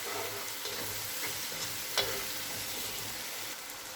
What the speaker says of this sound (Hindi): तीन से 4 मिनट तक टमाटर को पका लेंगे।